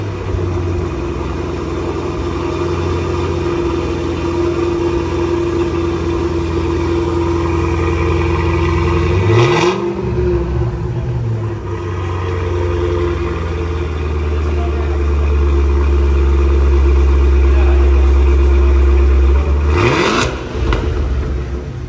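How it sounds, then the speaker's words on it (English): Supercharged V8 of a 2022 Cadillac CT5 Blackwing, a loud close rumble that holds steady, then swells in two sharp revs, the second rising higher and longer before dropping back toward idle. "here is the sound of the supercharged V8 engine"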